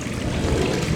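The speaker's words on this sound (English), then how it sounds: "Flush the toilet." In the video game Gone Home, a toilet flushes with a brief, steady rush of swirling water, close and continuous, with no voices.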